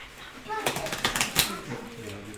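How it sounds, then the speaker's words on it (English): Deck of cards being shuffled during a tabletop role-playing session, a quick run of soft crisp riffling flutters lasting about a second, close and under nearby talk. "Fallon, please shuffle the deck for me."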